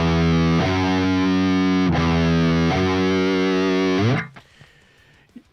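Distorted metal electric guitar sounding a major second interval, loud sustained chords re-struck a few times over about four seconds, then cut off into near silence with faint string noise.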